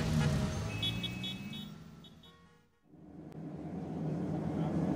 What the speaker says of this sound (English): There's a lot of traffic this morning.